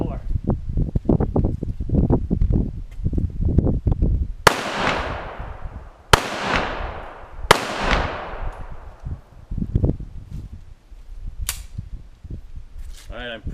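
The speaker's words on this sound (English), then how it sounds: "Looks like I shot twice there with the 45 caliber" Two loud, sharp .45 caliber pistol shots crack out in a backyard, each followed by a short echoing decay, with a third similar report close behind and a person talking before and after.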